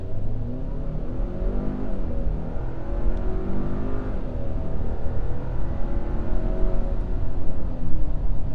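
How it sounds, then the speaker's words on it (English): Turbocharged engine of a 2023 Hyundai Santa Cruz Night accelerating hard from a standstill toward 60 mph, a loud steady drone heard from the cabin with rising and shifting tones as revs climb through the gears, no talking. "This is a really nice engine noise. You can hear the turbo."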